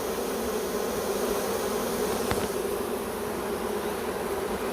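Honey bee swarm buzzing and fanning at the entrance of a new hive, a thick steady hum that stays even and close throughout, with one bee zipping past.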